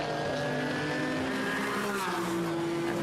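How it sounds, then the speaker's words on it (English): A third-generation Porsche Cayman GT4 race car runs hard on a track at Estoril, its loud, steady engine note holding close and then sweeping slightly downward as it passes. "That's the 3rd generation of a GT4 Porsche Caymans built by the Porsche factory"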